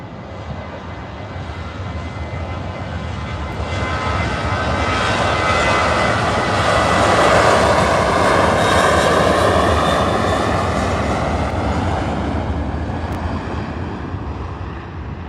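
TUI airliner taking off from Manchester Airport, jet engines swelling into a loud, steady roar that peaks midway and then slowly fades as the plane moves away, with wind buffeting the microphone and no talk.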